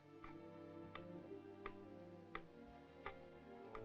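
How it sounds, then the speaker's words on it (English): A clock ticks steadily, one soft click roughly every seven tenths of a second, faint against a low humming background. "The tick of that clock begins to sound like thunder."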